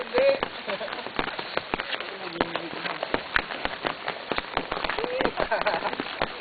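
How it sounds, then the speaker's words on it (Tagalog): Heavy rain pours near Kalaw Cave in Callao, a dense patter of drops on surfaces close by, with people talking and exclaiming over it. "Lakas ng ulan!"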